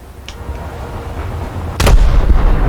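Heavy booming explosions from torpedo hits on a warship in the naval game War Thunder, a sharp blast early and a louder, sustained impact rumble near the end over constant low engine and sea noise.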